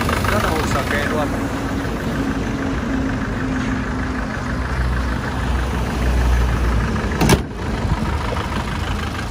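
A 2008 Isuzu Hi-Lander with a 2.5 diesel engine and manual gearbox idles with a steady, close low rumble and even mechanical chatter, broken once near the end by a short sharp knock.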